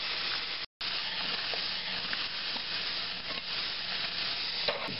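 Beef steak tips sizzle in a hot pan with a dense, continuous frying crackle and hiss, close and steady throughout apart from one very brief dropout.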